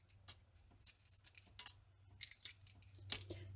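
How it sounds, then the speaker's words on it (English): Crackly shell peeling from a hard-boiled farm fresh egg, a run of small, quiet crinkles and cracking bursts close by, with no one speaking. "Okay, so that one's peeling pretty smoothly, pretty clean."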